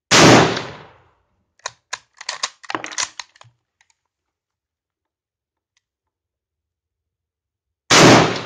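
An M1916 Spanish Mauser rifle chambered in 7.62x51 NATO fires two loud, close gunshots several seconds apart, with a quick series of sharp metallic bolt-action clicks and clacks in between and near silence after them.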